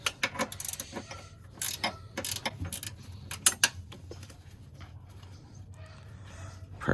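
A ratcheting wrench clicks in quick, uneven bursts while loosening 13mm nuts on the transmission mount of a 2008-2012 Ford Escape 3.0L V6, sharp and close, with quieter pauses between the rounds of turning.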